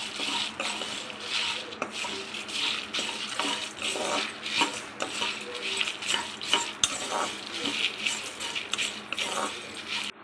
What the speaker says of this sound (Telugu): తర్వాత ఒక 10 ఎండుమిరపకాయలు అండి ఇలా సగం తుంచి వేసుకోవాలి. ఇది కూడా వేసేయాలి. వేసి ఫ్రై చేసుకుందాం.